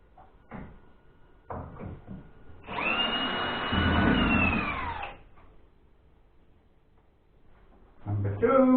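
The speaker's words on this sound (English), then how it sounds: "we've got 4 screws to take out here" A power driver backs a screw out of a platform while unpacking modules, giving a steady whirring buzz of about two seconds between quieter handling knocks and clatter, with a voice speaking around it.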